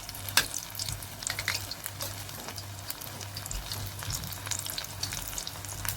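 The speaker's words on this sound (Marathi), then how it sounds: "त्याचा कलर गोल्डन होईपर्यंत आपण तळून घेणार आहे." Matar rolls deep frying on medium heat, with a continuous crackling, bubbling sizzle of oil, close and steady, with occasional louder pops and a low hum underneath, and no talking.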